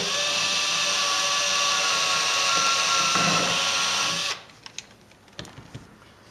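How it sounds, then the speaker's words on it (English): Cordless drill running in a steady, loud, high-pitched whine for about four seconds before cutting off, followed by a few scattered light clicks and knocks. "hooray for cordless drills"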